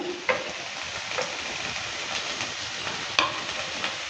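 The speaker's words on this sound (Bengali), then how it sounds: "পটলটা দেওয়ার পর ভালো করে আবারও নেড়ে চেড়ে নিচ্ছি" Finely chopped pointed gourd with browned onion and garlic crackles in a pan, a soft continuous sizzle broken by a few sharp spatula scrapes and taps.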